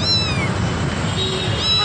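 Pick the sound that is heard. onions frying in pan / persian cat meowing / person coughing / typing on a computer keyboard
persian cat meowing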